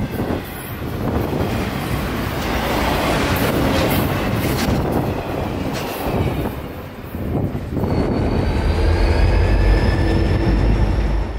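A long FEC intermodal freight train with business cars tacked onto its end rolls past in Florida: a loud, steady rumble of wagons with clickety-clack and occasional wheel squeal, holding close throughout.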